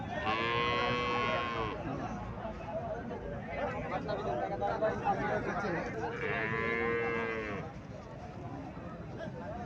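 A cow moos twice, long drawn-out calls several seconds apart, over a busy background of people talking and crowd noise at a cattle market.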